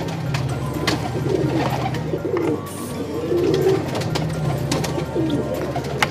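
A pigeon coos repeatedly in soft, low, rolling calls close by, with faint background bird sounds and no talking.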